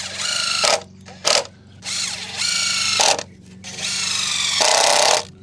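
A hand ratchet drives a concrete screw in repeated rapid clicking strokes, each burst of ratcheting lasting about a second, broken by short sharp turns and pauses, close and fairly loud.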